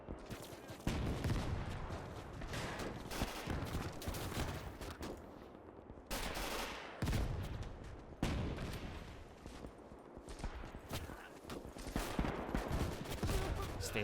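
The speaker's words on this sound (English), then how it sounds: "Oh, 20mm rounds." Dense gunfire roars through a large World War II battle in the Gates of Hell game, with rapid 20mm cannon rounds and machine guns firing in continuous overlapping volleys, loud and sustained for many seconds.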